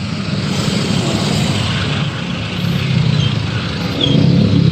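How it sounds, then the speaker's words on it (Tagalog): Street traffic by the Pasig River Esplanade in Manila, with cars and motorcycles, makes a loud continuous rumbling drone, engines swelling slightly near the end, with no talk. "ayan grabe nga traffic dito ngayon"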